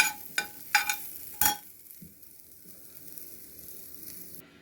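Potatoes with chili, turmeric, coriander and pepper powders and salt sizzle in hot oil, starting with a few sharp crackling bursts before settling into a soft, steady frying hiss, close and alone.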